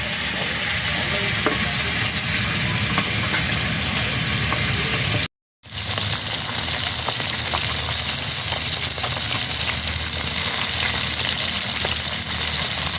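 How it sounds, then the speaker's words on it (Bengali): Fresh lyatha fish frying in hot oil in a kadai sends up a loud, steady sizzle that runs unbroken, apart from one brief silent gap, with faint stirring clicks underneath and no talking. "তেল গরম হয়ে গেছে, মাছ ভেজে নেব। একদম জ্যান্ত মাছ।"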